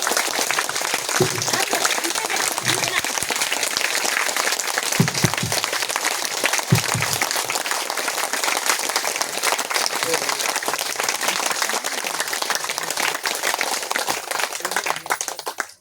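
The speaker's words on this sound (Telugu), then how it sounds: "ఇప్పుడు పంచమహాభూతాలకు గట్టిగా కొట్టండి చప్పట్లు, ఇంకా గట్టిగా." An audience at a spiritual teaching session claps loudly and continuously, a dense sustained wash of applause throughout with a few stray louder claps and faint voices underneath.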